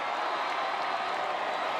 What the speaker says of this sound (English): Enthusiastic crowd support